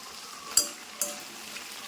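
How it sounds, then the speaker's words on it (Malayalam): Small onions and garlic sautéing in oil over a flame give a soft, steady sizzle, broken by a few sharp stirring clinks and scrapes of a utensil against the pan. "ഈ എണ്ണയ്ക്കകത്തിട്ട് നമ്മുടെ ഉള്ളി നന്നായിട്ടൊന്ന് വഴറ്റി വേവിച്ചെടുക്കണം"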